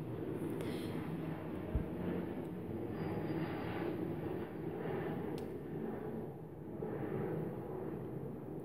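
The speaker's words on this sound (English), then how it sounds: "There's a plane." An airplane flies overhead, giving a continuous deep engine roar at moderate loudness that swells and fades slightly across the whole span, heard alone with no one talking.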